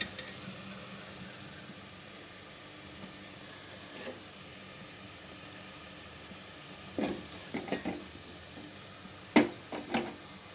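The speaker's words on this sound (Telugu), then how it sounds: "అన్నీ పచ్చళ్ళు బాగా ఫ్రై అయ్యి బాగా కుక్ అయ్యాయి చూడండి" Seasonings sizzle in a hot pan while a prawn curry with drumsticks and karonda berries is being made. A faint, steady frying hiss runs throughout, and a few soft clinks and stirring sounds come near the end.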